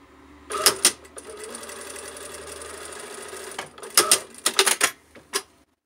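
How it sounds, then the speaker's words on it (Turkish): A sewing machine stitches a diagonal seam on a shalwar pocket in short bursts: a brief rattling run, a longer steady stitching stretch, then several quick stop-start bursts, close and clear with no talk. "Çapraza doğru dikeceğiz bunu."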